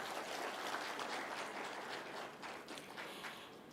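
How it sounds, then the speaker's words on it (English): A conference audience claps for the organising staff at a devolution conference closing, a faint, diffuse patter of many hands spread across a few seconds, with no voices over it. "Kindly give them a hand clap."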